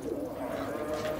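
Pigeon on a rooftop cooing softly in a brief, low burble, close and faint with no talk.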